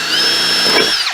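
A power drill spins at high speed against a rivet in a plastic car bumper on a 2019 GTR, one loud steady whine lasting about a second before winding down.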